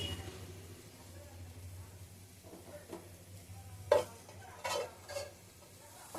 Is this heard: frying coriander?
yes